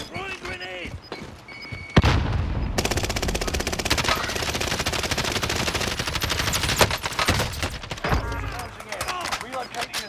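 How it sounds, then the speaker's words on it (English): Rapid gunfire rattles in the Call of Duty Warzone video game as a grenade is thrown, a dense, loud burst of shots with a sharp onset, with voices talking before and after. "Throwing grenade!"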